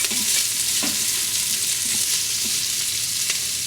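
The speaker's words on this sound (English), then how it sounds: "So what I need to do is put in the garlic and the onion and start to saute this." Garlic and onion sauté in the hot inner pot of an Instant Pot IPDUO60 electric pressure cooker, giving a continuous close sizzle with a few soft stirring scrapes and no speech.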